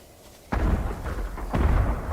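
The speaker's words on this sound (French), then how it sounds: "Des feux d'artifice! De toutes parts!" Fireworks blasting in Ghost of Tsushima, two heavy booming explosions about a second apart, loud and close, each followed by a rumbling roar.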